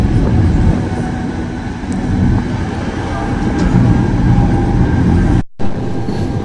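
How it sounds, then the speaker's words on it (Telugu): A Matterhorn-area mountain train near Zermatt, Switzerland, rumbles steadily close by with broadband rolling noise and faint rail clatter, briefly cut off near the end before resuming. "ఈ మ్యాట్రాన్ ట్రైన్స్ అంతా బాగా అనిపిస్తుంది"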